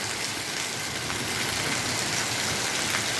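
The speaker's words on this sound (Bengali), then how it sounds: "ভীষণ জোরে বৃষ্টি বন্ধুরা।" Heavy monsoon rain pours steadily at a house in Nagpur, a dense, unbroken roar of water with no voices over it.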